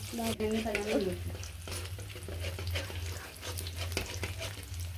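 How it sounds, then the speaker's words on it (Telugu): Tomato chutney ingredients frying in hot oil in a pan, a continuous close sizzle and crackle with stirring scrapes. A voice is briefly heard at the start, over a low steady hum. "నూనెలో అయితే చూడండి ఇలా వేయించుకోవాలి"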